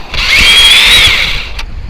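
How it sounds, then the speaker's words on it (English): A power drill whines steadily as it bores into a wooden treehouse board, a loud close continuous whirr lasting over a second before stopping with a brief tail. "we're going to want to go drill in that direction."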